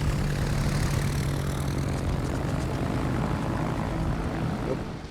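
A propeller plane's engine drones steadily in a video game, a loud, continuous buzzing roar that holds for several seconds before easing slightly at the end, with no talk over it.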